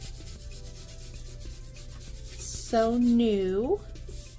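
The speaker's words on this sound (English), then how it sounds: "I might sand a little bit like right here just to age it a little bit so it doesn't look" Sandpaper rubbing over the edge of a thrifted cottage-decor piece to distress it, soft repeated scratchy strokes up close, with a brief spoken phrase partway through.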